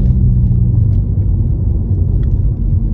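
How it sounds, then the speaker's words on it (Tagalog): A car engine rumbles steadily at close range, a deep continuous drone with faint higher whooshes from the turbo. "Naririnig nyo naman ang turbo."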